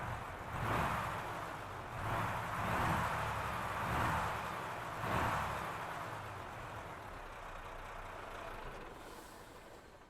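A truck engine in Euro Truck Simulator 2 revs in several slow, rising and falling surges and then settles into a steady rumble, loud and close, with no talking.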